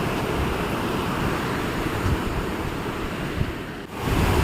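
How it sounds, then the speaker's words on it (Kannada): Steady roar of surf washing in at Chitrapura Beach, a broad wash of noise with slight swells and wind, no voices. "ನೋಡಿ ನೀರು ಹೋಗ್ತುಂಟು ಹಿಂದೆ. ಬಂತು ಸೆರೆ ಬಂತು"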